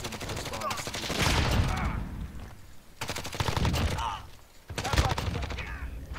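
Close, loud automatic fire from a Grau 5.56 rifle in Call of Duty: Modern Warfare, coming in three long rattling bursts separated by short pauses.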